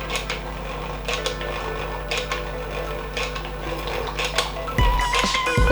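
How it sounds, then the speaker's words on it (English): Wet ingredients for a rich fruit cake made with jaggery and dates being whisked in a bowl, a rapid run of light metallic ticks and scrapes, with a louder clatter near the end. "We have mixed all the wet ingredients. Now we need to whisk all of it."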